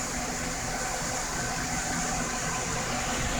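Three Bitmain AntMiner S5 crypto miners running at full speed in an open garage, a steady, dense fan roar with a constant hiss, unchanging throughout.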